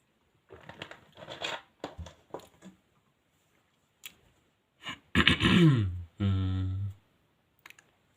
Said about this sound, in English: Noises to try and clear my throat.